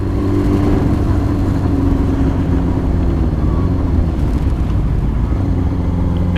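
A motorbike engine drones steadily while riding, close and loud throughout, with a constant low rumble and wind-like wash and no clear rev changes.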